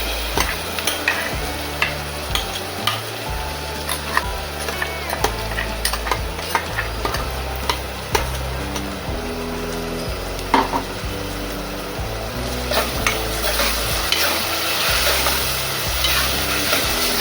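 Green mint paste frying and being stirred in a pan for an Agri-style chicken and suran curry, a steady close sizzle with regular scraping and clinking strokes of the spoon throughout.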